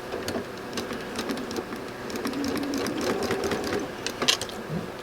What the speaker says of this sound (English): let me try sewing this one.